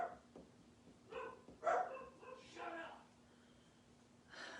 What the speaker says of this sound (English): Calm the dogs down.